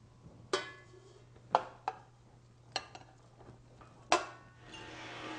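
Cream cheese, two 8-ounce packages, being creamed in a bowl: a handful of sharp utensil knocks and scrapes against the bowl at uneven intervals, with a soft steady whirr beneath and a rougher mixing swish at the end, no talking.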